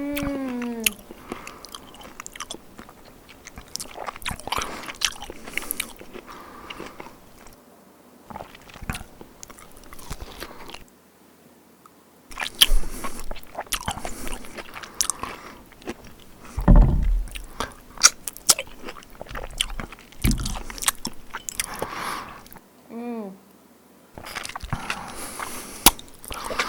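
Someone eats caramelized pork with quail eggs, producing close, moist chewing and biting sounds in irregular bursts, broken by short pauses, with no talk.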